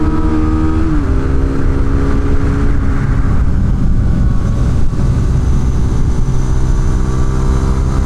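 A small motorcycle engine on a race track drones loudly and steadily close by, its pitch shifting slightly as it holds a high rev.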